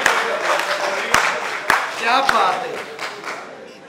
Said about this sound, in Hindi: तालियां तो होनी चाहिए जी